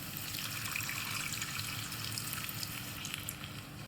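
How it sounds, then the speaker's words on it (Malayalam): Tamarind water goes into hot oil for onion sambar in a pan, giving a continuous bright sizzle and bubbling hiss at a moderate level that cuts off abruptly at the end. "എന്നാൽ അതിലേക്ക് നമുക്ക് പുളിവെള്ളം ആഡ്"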